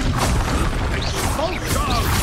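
Expulso spell blast in Hogwarts Legacy, a loud crashing burst with whooshing debris and mechanical clatter under battle noise and voice-like shouts.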